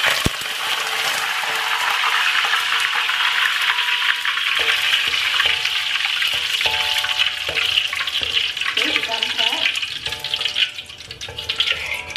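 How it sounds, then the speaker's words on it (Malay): Lime leaves frying briefly in hot oil give a steady, close crackling sizzle that holds throughout, with occasional light stirring and faint clinks. "kemudian kita goreng sekejap saja ya daun limau."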